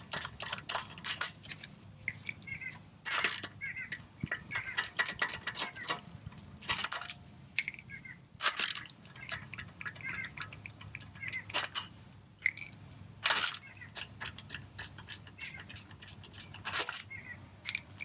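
Lug nuts on a 2018 Honda CR-V wheel being loosened with a flex-head wrench, producing quiet rapid ratcheting clicks in short bursts separated by sharper metallic clanks, close and fairly faint.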